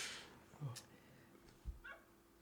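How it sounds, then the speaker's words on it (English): A dog barks outside, a few short muffled yips and barks sounding faint and distant beneath low room noise. "There's a dog barking outside."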